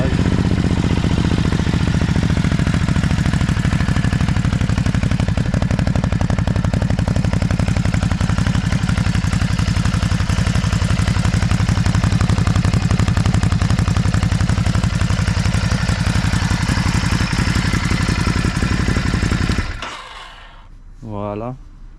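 A 2021 Ducati Hypermotard RVE engine starts and runs loud and close with a rough, pulsing idle for about twenty seconds, then cuts off and a voice speaks.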